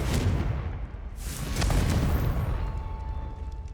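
A Confringo fire spell explosion in Hogwarts Legacy, a loud booming blast with a second burst and rumbling tail fading into a crackle.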